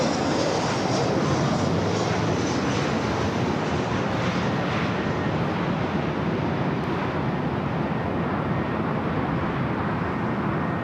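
Alaska Airlines airliner at LAX roaring past, a dense continuous jet-engine wash that stays loud and steady for the whole span, smoothed by wind across the microphone.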